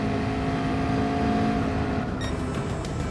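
Race car engine in the racing game GT Sport, a steady loud drone holding for several seconds through the final corner, with a brief higher whine near the end and no voices.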